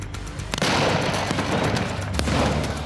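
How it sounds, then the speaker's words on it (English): Thick toughened-glass champagne bottle exploding inside a microwave, a loud burst of blasts and cracking with a sharp impact near the half-second mark, then a lingering rumbling clatter and another sharp hit before the end. "The bottle is made of thick, toughened glass, so when the explosion does happen, it's enough to rip the microwave apart."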